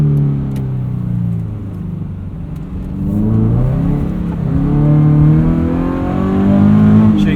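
A Subaru BRZ sports car on Continental tyres drives a wet winter road, its engine droning and rising in pitch under steady tyre and road roar, heard from inside the cabin.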